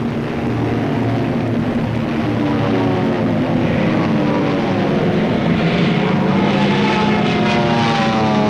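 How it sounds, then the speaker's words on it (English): Propeller engines of WW2 carrier planes circling over Iwo Jima drone loudly and continuously, with a wavering pitch as the aircraft pass overhead and no break in the roar. "The support air director contacts carrier planes circling the target."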